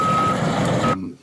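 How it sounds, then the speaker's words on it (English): Construction bulldozers reversing near houses give a loud, steady backup alarm tone over heavy engine rumble, cutting off sharply near the end. "I'll let that play for a second so you can hear the backup alarms."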